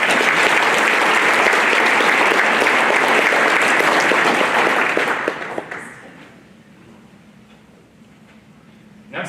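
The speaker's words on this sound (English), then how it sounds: "Please give a round of applause for" Banquet audience applauds loudly for a youth apprenticeship honoree, a dense steady clapping that fades out after about five seconds into a quiet room with a brief noise at the end.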